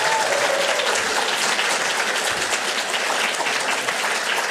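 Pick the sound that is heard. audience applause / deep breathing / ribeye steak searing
audience applause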